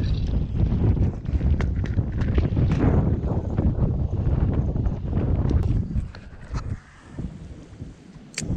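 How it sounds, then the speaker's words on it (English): A strong northeast wind buffets the microphone out on the water during salmon fishing from a boat, a loud, gusty low rumble that fluctuates and eases briefly near the end, with bumps and knocks scattered through it. "I think northeast wind now is pretty much strong"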